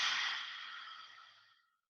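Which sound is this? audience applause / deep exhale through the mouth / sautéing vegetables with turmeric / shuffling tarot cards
deep exhale through the mouth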